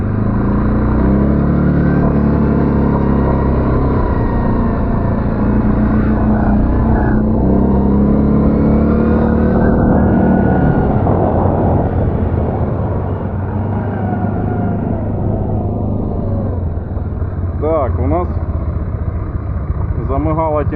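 Linhai 550 ATV quad bike engine running loud and close for the whole stretch, a steady droning roar with shifts in revs, while people talk over it.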